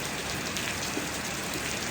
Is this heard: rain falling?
yes